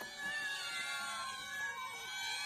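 Drawn-out, wavering cat-like meows, apparently imitated by a person rather than a real cat, moderately loud and sliding in pitch, heard without talk over them.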